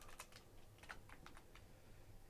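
Quiet, uneven clatter of keys on a computer keyboard while code is typed, with a handful of distinct taps and short pauses and no voices.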